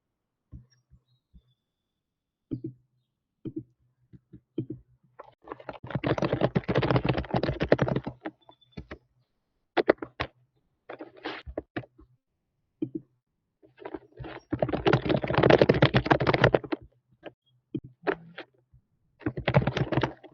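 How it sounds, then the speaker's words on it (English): Bursts of rapid keyboard typing, close and clear, with pauses and scattered single key taps between flurries; no voices. "you guys probably hear my typing"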